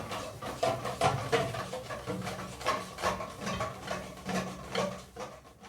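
Chocolate cake batter is mixed in a bowl, a soft rhythmic patter of strokes and light scraping repeating about twice a second, close, with music playing underneath.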